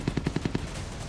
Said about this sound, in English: this machine gun gives very stable accuracy at a high rate of fire